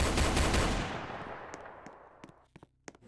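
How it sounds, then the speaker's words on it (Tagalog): Rapid AK-47 bursts from the Roblox game Brookhaven, a dense loud rattle for under a second that decays into a long echoing tail, followed by a few sparse, fainter single shots. "I-change muna natin ang baril natin ng AK-47 at paputokan natin siya"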